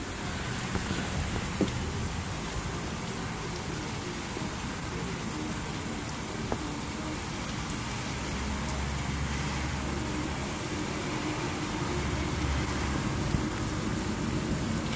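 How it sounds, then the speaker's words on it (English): Heavy rain from a thunderstorm over a house in Los Banos, California, makes a steady broadband hiss. It is moderately loud and continuous, with occasional faint low rumbles beneath. "A lot of rain."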